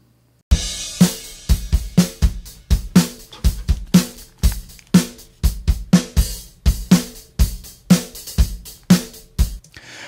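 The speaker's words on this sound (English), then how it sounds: "The first drum kit sounds like this." Drum kit played by a non-drummer, a steady groove of punchy kick and snare hits with cymbal wash, close and loud, playing alone after a short silent start.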